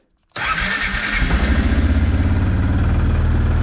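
A Kawasaki Prairie 360 ATV engine, choke on, fires after a moment of silence and settles into a loud, close, rapid idle chugging steadily as it warms up.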